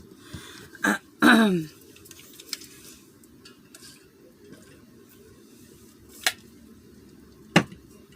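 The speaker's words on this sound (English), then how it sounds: "Sorry guys about clearing my throat and whatnot" A quiet room with faint background hiss, broken by a sharp throat clearing early on and a few isolated clicks and taps afterward.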